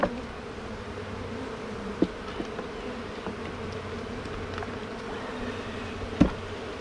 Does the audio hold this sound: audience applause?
no